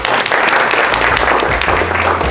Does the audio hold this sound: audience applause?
yes